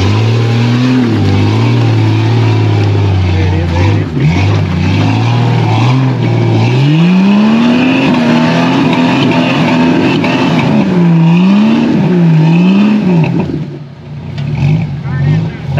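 A Jeep Cherokee engine revving hard while climbing off-road terrain, loud and close, its pitch swelling, dipping and surging again before easing off near the end.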